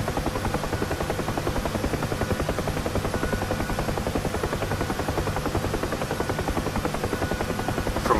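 Rotor thump of a UH-1H Huey helicopter in DCS, steady rhythmic blade chop over a constant turbine drone, loud and close throughout with no talk.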